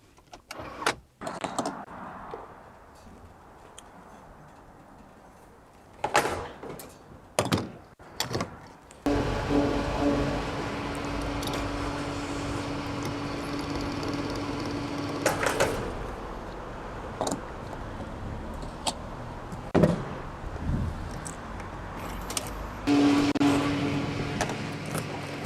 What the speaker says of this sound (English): I have to put fuel into my BMW